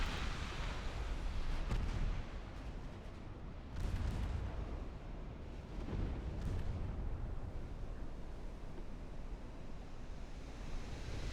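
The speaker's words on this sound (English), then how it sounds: "Anson goes down, taking a whole lot of torpedoes." Heavy torpedo hits on the British battleship Anson in Ultimate Admiral: Dreadnoughts, deep rolling booms and rumbling surges of water swelling and fading over a steady roar of sea and wind, with no talk.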